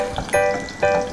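Garlic fries in a pan with a steady crackling sizzle, punctuated by two brief brighter bursts as the pieces are stirred, close and fairly loud.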